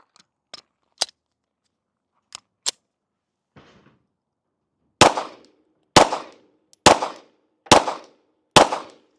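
Springfield Echelon pistol firing a fresh magazine: a few scattered light clicks and taps, then five loud sharp shots in an even rhythm about a second apart, each with a short decaying tail.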